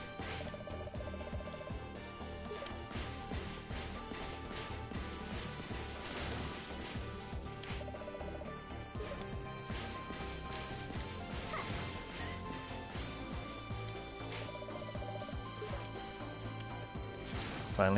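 Repeated crashes and whacks of candles being smashed in the video game Shantae and the Pirate's Curse, scattered hits over continuous game music, with no talk.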